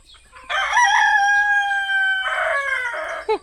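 A rooster crows loudly and close by near a coop, one long drawn-out call with a ragged, strained finish and a brief squawk at the end.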